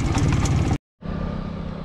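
Rajdoot motorcycle engine running loud with the silencer baffle (DB killer) removed, a harsh, raw roar that cuts out briefly to silence and then resumes at a steady, rumbling idle.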